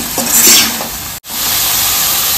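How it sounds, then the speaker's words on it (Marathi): Prawns fry in oil with onion and masala, a loud close sizzle with stirring scrapes early on, broken by a brief cut before the steady frying hiss resumes. "कोळंबीला तेल सुटेपर्यंत फ्राय करून घेत आहे"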